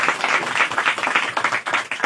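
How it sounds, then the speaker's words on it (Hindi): A church congregation claps together in a short burst of brisk, overlapping hand claps, fairly loud and close. "आप ताली बजा सकते हैं परमेश्वर की"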